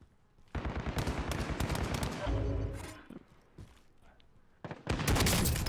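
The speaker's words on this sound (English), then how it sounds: "This marksman rifle is nasty, dude." A marksman rifle fires in a video game. Loud bursts of shots come in two clusters, separated by a quieter gap with a lingering rumble.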